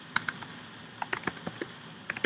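Rapid typing on a computer keyboard while entering text into a diagram tool, with a quick irregular run of crisp key clicks, some in short bursts and some single, close and alone with no talking.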